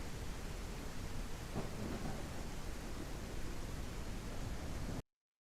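A game weather effect plays a dense, steady hiss of rain with a low thunder rumble building in the middle, continuous for about five seconds and then cutting to silence.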